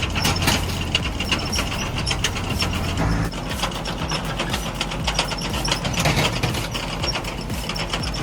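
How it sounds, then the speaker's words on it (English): A homemade farm firewood processor runs with an engine drone under rapid rattling, clanking mechanical ticks and ratcheting as it cuts and splits wood, loud and continuous. "the homemade firewood processor is an amazing piece of farm engineering"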